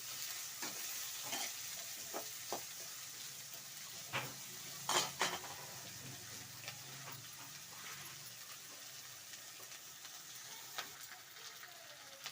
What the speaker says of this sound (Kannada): ಫ್ರೈ ಆಗಿದೆ ಚೆನ್ನಾಗಿ ಈರುಳ್ಳಿ ಎಲ್ಲ ಫ್ರೈ ಆಗಲಿ